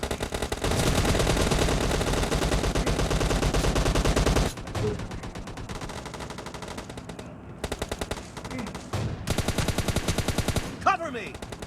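Gunfire in the mobile game PUBG Mobile Lite: a long loud burst of rapid automatic fire, then scattered shorter bursts and shots continuing to the end.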